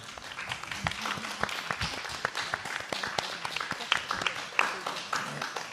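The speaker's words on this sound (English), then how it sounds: "You can give them all a round of applause now." An audience applauds at a school board candidate forum in Santa Barbara, with dense, steady clapping throughout and voices mixed in beneath it.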